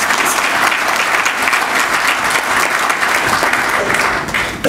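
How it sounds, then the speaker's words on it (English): Sustained loud applause from an audience at a Pak-Afghan trade and investment forum, a dense steady clapping that fills the whole stretch and fades slightly near the end. "So let us give them a round of applause"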